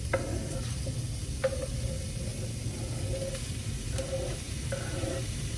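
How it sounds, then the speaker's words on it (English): Raw shrimp and cooked chopped chicken browning in a pan for Creole jambalaya, giving a steady close sizzle and hiss with occasional stirring scrapes and clinks, no talk. "And you're gonna brown this all up, okay?"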